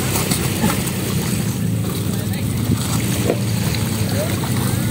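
A boat engine drones steadily on open water during a boat race, with wind and splashing underneath and voices talking faintly throughout.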